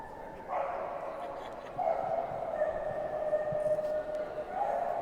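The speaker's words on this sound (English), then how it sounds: "That's our best of breed Tibetan Terrier" At a dog show, a Tibetan Terrier gives a few faint yips and whimpering barks amid a noisy show-ground background.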